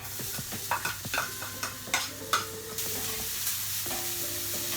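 Onions are dropped into a pan of frying carrots for beef stew stuffed peppers, with clattering utensil taps and stirring scrapes over a steady sizzle, close and moderately loud, without speech.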